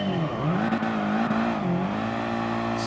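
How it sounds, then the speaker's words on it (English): Audi TT in a GT racing video game revving hard at the race start, a loud steady engine drone whose pitch sways up and down through held throttle blips, with no talk over it. "we're just going to try and rev the nuts off it, drop it a little bit, and then go"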